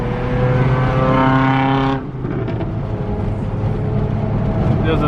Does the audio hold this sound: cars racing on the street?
yes